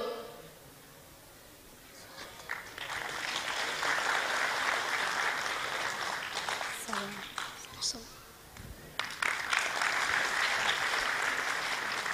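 Applause from an audience at a commemoration ceremony for two republics and martyrs swells into sustained clapping, briefly thins and dips, then returns strongly, with a speaker's voice heard over parts of it.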